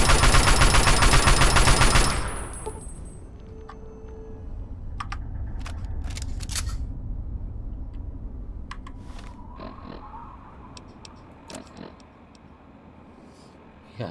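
Gunfire in Fallout 3, a loud sustained burst of rapid shots for the first two seconds, then scattered sharp single shots and clicks at lower level with faint voice underneath.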